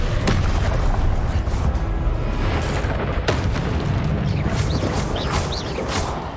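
Blasts from the Confringo explosive spell in Hogwarts Legacy, a dense, loud rumbling boom with crackling bursts layered through the whole stretch, slowly easing off toward the end.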